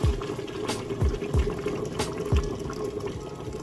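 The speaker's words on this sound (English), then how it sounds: "Now I'm gonna pour my hot water." Hot water splashes and gurgles into a cooking pot of cow foot, with a steady liquid rush and a few low knocks and thumps, close by and moderately loud.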